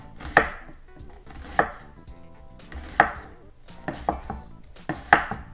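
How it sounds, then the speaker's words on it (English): An onion is chopped with a knife on a board, with several sharp, distinct knife strikes spaced irregularly, close and crisp with no talk. "now I'm gonna cut up my onion."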